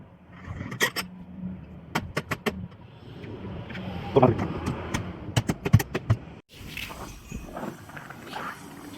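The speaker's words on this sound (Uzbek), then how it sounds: "Rastordi keldi, quyib ketdi mashina." A mortar delivery truck at a cold-weather construction site pulls in, tips its load and drives off, heard as a steady mid-distance engine rumble broken by sharp metallic clanks and knocks, with voices talking nearby.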